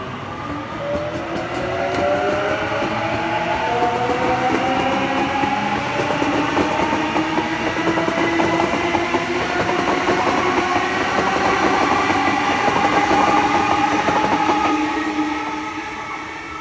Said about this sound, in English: And we have a Waratah departing for a MacArthur service.